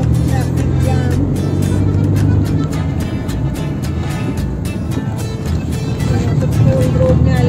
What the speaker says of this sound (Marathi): Traffic jam.